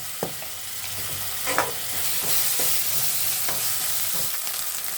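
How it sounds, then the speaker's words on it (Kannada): A spoonful of ginger garlic paste fries in a pan for chicken fry: a close, steady hissing sizzle broken by several distinct scrapes and taps of a spoon stirring, with no talking. "ಒಂದು ಸ್ಪೂನ್ ಶುಂಠಿ ಬೆಳ್ಳಿ ಪೇಸ್ಟು ಅದನ್ನು ಸ್ವಲ್ಪ ಹಸಿ ವಾಸನೆ ಹೋಗೋ ತನಕ ಹುರ್ಕೊಳ್ಳೋಣ"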